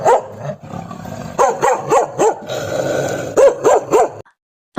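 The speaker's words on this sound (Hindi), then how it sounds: "उसके नगर में प्रवेश करते ही नगर के कुत्तों ने भौंकते हुए उसे" Several village dogs bark loudly and close by in quick bursts of repeated woofs with low growling between them, and the noise breaks off suddenly near the end.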